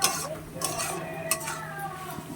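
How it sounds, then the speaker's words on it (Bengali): Cauliflower being stirred in a cooking pot with a spoon, giving soft scraping and clinking against the pot over a low sizzle, with a few brighter knocks spread through the stretch. "একে ভালোভাবে নাড়তেই হবে।"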